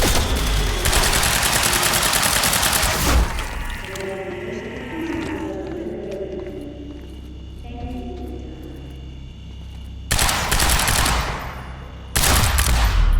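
Heavy automatic fire in Quantum Break comes in two loud bursts at the start and the end, with a quieter stretch of echoing mechanical rumble and low tones between them.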